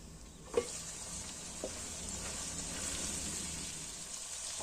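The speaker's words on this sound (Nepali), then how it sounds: "अनि यो आलु भुटिँदा भुटिँदै प्याज भुटिन्छ।" Potatoes and onions fry in a pan with steady, close sizzling throughout, broken by a couple of brief knocks of a spoon against the pan.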